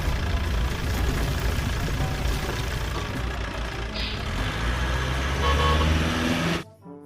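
A toy cement mixer truck sounds its horn and motor noise in a loud, continuous electronic toot that runs several seconds and then cuts off abruptly.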